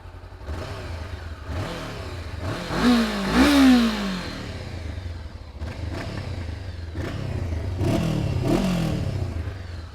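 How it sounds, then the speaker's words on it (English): A 2017 Honda CB500X motorcycle with a new exhaust revving at idle, several rising and falling throttle blips up close with a clattery mechanical undertone. "the exhaust is new. It's the same, I think, on the CB500F, and it does a great, like, you know, it looks better and the sound is a little bit better"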